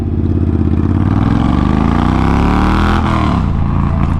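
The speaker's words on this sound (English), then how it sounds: "it's a 1200cc Triumph, so it sounds very throaty" A 1200cc Triumph Bobber engine revs up loudly with a rising, throaty exhaust note, then drops off sharply as the throttle is released.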